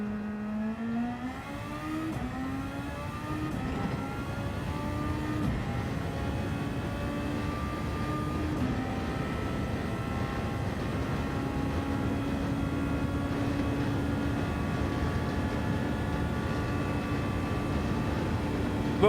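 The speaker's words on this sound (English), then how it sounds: "The only difference between this and the Toyota and Honda will be the sound of the engine." Car engine in the racing game Gran Turismo 7 during a daily race, a steady droning whine whose pitch climbs and drops with gear changes and holds at high revs, continuous and moderately loud with no voices.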